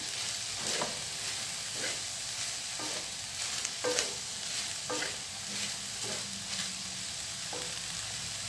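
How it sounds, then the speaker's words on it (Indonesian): Beef gore-gore stir-fried in a pan as its sauce dries out, a steady sizzle running throughout with repeated scraping strokes of the spatula at an irregular rhythm, close and alone. "setelah kuahnya mulai kering, maka kita oseng-oseng"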